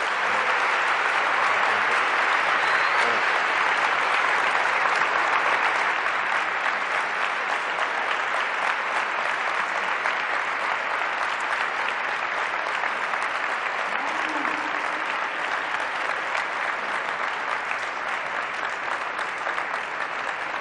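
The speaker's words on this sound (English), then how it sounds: "and a round of applause for our guests." A university event audience at Columbia gives a sustained round of applause for the guests, a steady wash of clapping that holds evenly from start to finish, heard from a moderate distance.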